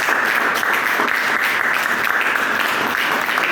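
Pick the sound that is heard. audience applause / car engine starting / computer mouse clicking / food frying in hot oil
audience applause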